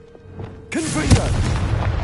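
A sudden fiery blast of the Confringo explosive spell in Hogwarts Legacy bursts in after a quiet moment, followed by a sustained roaring crackle, with a voice shouting the incantation just before it.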